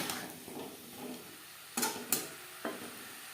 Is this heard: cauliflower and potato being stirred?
yes